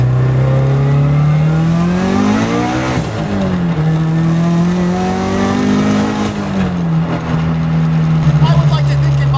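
A drift car's engine revs loudly on a street, holding a steady roaring drone that climbs and falls with throttle, prominent and close throughout, with faint voices mixed in.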